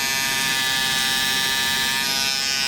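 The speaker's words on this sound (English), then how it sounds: "turning my trimmer to the side" An electric hair trimmer buzzes steadily and continuously, close up, at a constant high-pitched hum while it cuts hair during a haircut, with no talking.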